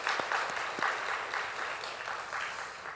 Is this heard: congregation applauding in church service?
yes